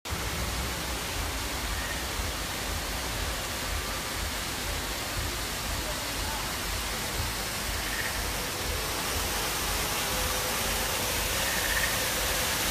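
Flowing water at Pandora – The World of Avatar theme park, a steady, broad rushing wash like a nearby waterfall or stream, constant and fairly loud with no talking.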